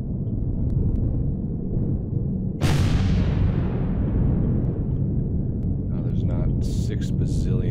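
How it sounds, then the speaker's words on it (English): Heavy gunfire and explosive blasts from enemies at an alien outpost in the space survival game Empyrion, a dense rumbling barrage with one sharp loud burst partway through that trails off, talk mixed in. "Six bazillion things shooting at us."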